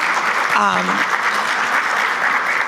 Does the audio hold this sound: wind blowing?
no